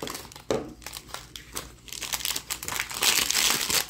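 Crinkly plastic blind bag packaging for a mini fashion collectible being torn open and handled up close, a steady run of loud crumpling and ripping that swells toward the end, with no talking.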